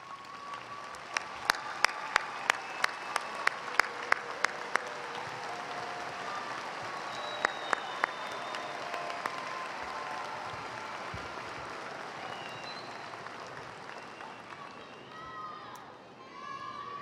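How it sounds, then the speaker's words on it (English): Commencement crowd applauding graduates' families, broad steady clapping throughout with a run of loud rhythmic individual claps close by early on and again briefly midway, faint voices mixed into the crowd noise. "Please stand so we can all recognize and applaud all of you."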